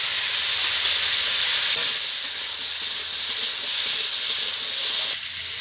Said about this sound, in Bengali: এবার যে আলু আর কাঁঠালের দানা আমি কেটে রেখেছি ওটাকে আমি ভেজে নেব